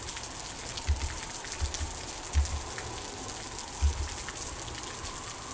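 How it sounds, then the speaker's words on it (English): Acid rain in the video game Osiris: New Dawn falls as a steady, hissing patter across the whole stretch, with a few soft low thumps breaking through. "Acid rain?"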